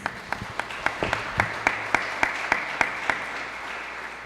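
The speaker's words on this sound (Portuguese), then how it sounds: "As palmas louvam ao Senhor, irmãos." A church congregation claps in a steady rhythm during a live worship service, about fifteen sharp beats at an even pace, moderately loud over a soft wash of background noise.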